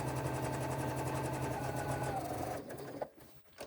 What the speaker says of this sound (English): sew along this edge where I am sewing through the seam allowance here and the lining piece